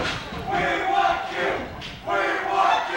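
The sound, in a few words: wrestling crowd chanting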